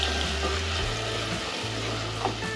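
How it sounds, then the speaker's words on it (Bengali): Onion paste frying in oil left from browning chicken for a chicken roast with gravy gives a steady, close, loud sizzle with a faint stirring rustle and no voices. "এরপর ওই তেলেই আমরা দেবো পেঁয়াজ বাটা, দিয়ে ভালো করে আমরা এটিকে মশলার সাথে মিশিয়ে নেব"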